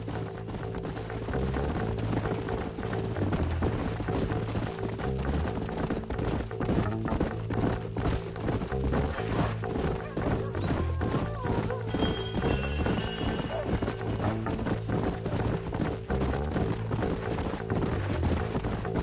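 Horses galloping in the video game Red Dead Redemption on PS5, with steady clip-clop hoofbeats over a continuous loud game soundtrack and effects, plus occasional neighing.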